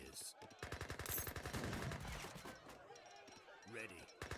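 A Gatling gun fires in a strategy video game battle, sieging a town centre: rapid bursts of rattling shots, loud and close, with brief pauses and other battle impacts between them.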